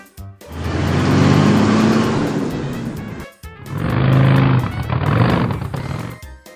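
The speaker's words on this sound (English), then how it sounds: "Catering truck." A catering truck's engine runs loud and close in two sustained stretches, separated by a short dip, with a rough droning rumble throughout.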